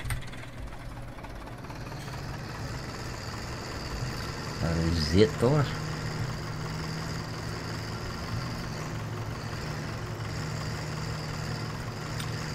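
Steady low idle of a tractor engine in Farming Simulator 17, a constant rumble with a brief louder revving surge partway through, under a few spoken words.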